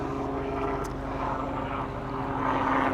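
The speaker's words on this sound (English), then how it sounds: "probably hear the airplane above" A propeller airplane drones steadily overhead through a quiet yoga room, a continuous low engine hum with a faint tonal whine, swelling slightly toward the end.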